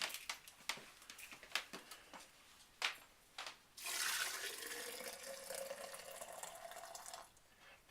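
Liquid yogurt mixture pours into a jar in a home kitchen: a few clicks and taps first, then a steady splashing pour that runs for several seconds before stopping, fairly faint and close.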